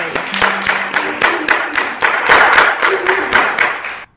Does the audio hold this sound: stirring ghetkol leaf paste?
no